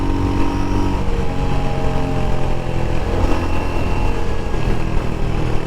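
A Royal Enfield Hunter 350 motorcycle engine pulls hard under acceleration, a loud, close, steady throbbing drone that holds for several seconds with no talking.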